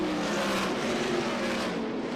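USAC Silver Crown champ cars race down the back straightaway of the Springfield dirt mile, a continuous loud engine roar with a steady, slightly rising pitch, heard alone with no talk.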